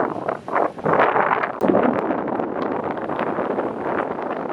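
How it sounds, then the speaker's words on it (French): Strong wind gusts roar across an exposed spot in Greece, buffeting the microphone in loud, surging blasts that dip briefly before building again into a sustained rush. "Des rafales à 95 dans la gueule."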